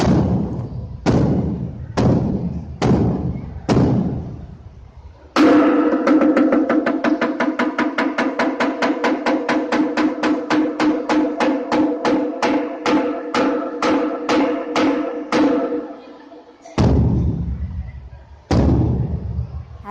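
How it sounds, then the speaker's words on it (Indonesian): A wooden kentongan slit drum is beaten to mark prayer time: five slow, loud, hollow knocks, then a long, fast, even roll of strikes, followed by two more single heavy knocks, all close and clear. "seperti apa bunyi kentongannya untuk menandakan waktu sholat?"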